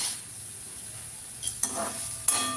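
Amla (gooseberry) rice mixture fried in a pan, a soft sizzle under a few scraping stirs with a spoon, close and fairly quiet, with brief clinks against the pan.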